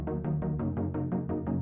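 Pulsing synth notes with a delay effect repeat in an even rhythm, each note trailing into the next with a soft echo-like smear, close and steady throughout.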